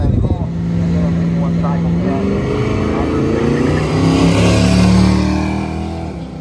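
A drag race car makes its first pass at a drag strip, its engine roaring loudly and rising in pitch as it accelerates, then fading slightly at the end; a voice speaks over it.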